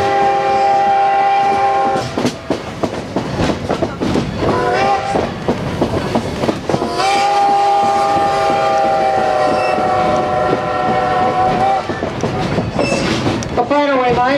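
A Strasburg Railroad train rolls into East Strasburg Station with a loud, steady mechanical rumble and sustained horn-like tones, metallic squeals rising over the noise.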